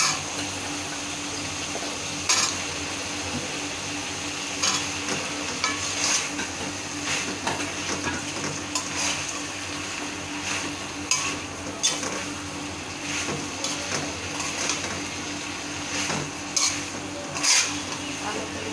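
Okra frying with potatoes in a pan with a constant sizzle, punctuated by occasional scraping and clinks of a utensil stirring.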